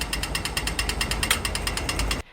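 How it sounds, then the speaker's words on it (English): Fast, steady rhythmic buzzing pulses from an Australian pedestrian crossing signal, repeated many times at an even tempo before cutting off abruptly. "It becomes the little green man, and the buzzer sounds like this."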